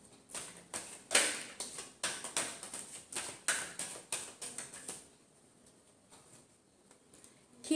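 Tarot cards riffled and shuffled by hand in a quick series of crisp papery flicks and taps, close and moderately loud, the burst ending halfway through and leaving near silence.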